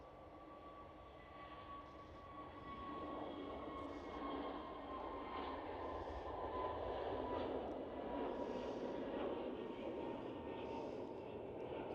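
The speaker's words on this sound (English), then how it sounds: "Let me first show the KLM Airbus A321neo departing." A KLM Airbus A321neo departs Schiphol airport, a steady distant jet roar with a faint whine that swells gradually and holds, with no talking.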